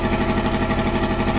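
Kawasaki ZL600 motorcycle engine idling steadily as it warms up, a loud, even, close-up mechanical thrum with a regular pulsing beat and no voices.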